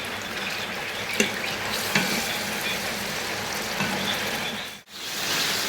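Salted prawns frying with garlic in a pan give a steady, moderately loud sizzle with a couple of sharp stirring knocks and a brief dip near the end.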